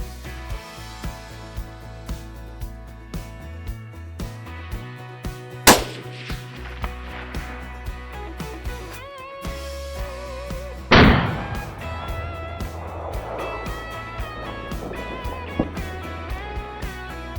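Two sharp, loud rifle shots from a Tikka T3X in .260 Remington fired outdoors while hunting rabbits, each with a rolling echo, over a steady background hum and faint ticking.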